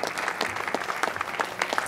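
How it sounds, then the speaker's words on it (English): An audience at a UN climate action award ceremony applauds its winners with continuous, dense clapping from many hands, moderately loud and unbroken, with no talking over it. "Round of applause for our 11 winners tonight."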